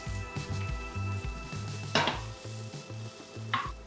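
Chopped onions and ripe tomato fry in a pan with faint, steady sizzling. Two sharp metallic clinks from a spoon or spatula against the pan cut through, and no one speaks.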